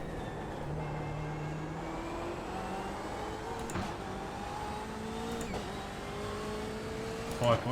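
A simulated race car engine in iRacing during an IMSA race at Montreal whines steadily through gear shifts and rising revs at a moderate level.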